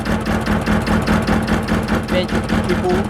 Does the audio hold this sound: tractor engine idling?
yes